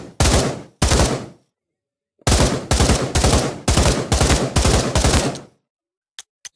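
AK rifle in Pavlov VR firing loud, close bursts: two short bursts, a pause, then a longer run of evenly spaced quick shots, followed by a couple of faint clicks.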